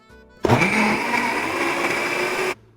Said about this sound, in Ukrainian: Ананас хоч був і тверденький, але блендер впорався дуже легко.